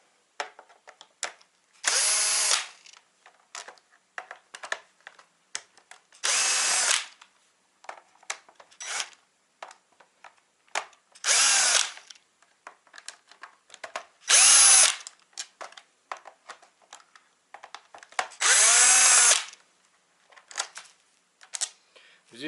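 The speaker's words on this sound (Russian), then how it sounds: "закручивать их дрелью я вам не рекомендую" Electric drill driving long screws into a Porsche Cayenne 955/957 monochrome console panel, in several short whirring bursts separated by clicks, handling and brief speech.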